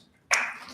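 Applause for a company COO introduced at a Christian business event starts abruptly after a quiet moment, a short burst of clapping that peaks quickly and then holds at a steady, moderate level.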